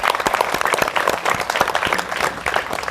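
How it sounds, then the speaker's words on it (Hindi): Loud, dense applause from an audience at an Earth Day celebration event, steady clapping filling the whole stretch with a few sharper individual claps standing out. "तो आप सभी, हम सभी के लिए एक बार जोरदार तालियां।"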